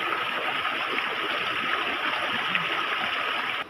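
Continuous rushing water from a nearby waterfall and flowing stream, a steady broadband roar with no voices.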